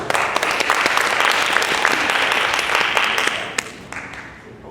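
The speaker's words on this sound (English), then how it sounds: "Let's give them a round of applause." An audience at a community gathering in Carthage, Texas breaks into a round of applause, dense sustained clapping that fills the room before tapering off toward the end.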